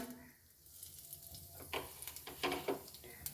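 Bay leaf and a green chilli dropped into hot oil, a quiet start then a rising crackling sizzle with sharp spitting pops near the end.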